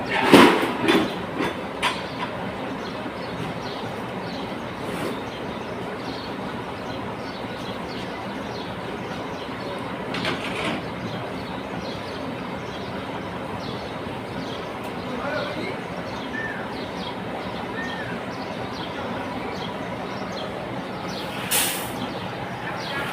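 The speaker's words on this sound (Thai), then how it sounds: "คือรถไฟไต่แล้ว" A train rolls along with a steady rumbling clatter and rattle, with faint voices in the background and a few sharper knocks near the start.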